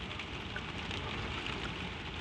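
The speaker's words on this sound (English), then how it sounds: "The rain murmurs on the lidded glass and on the high roof" Gentle, steady rain patters on tall windows and a high roof, a soft continuous hiss with no voices or other sounds.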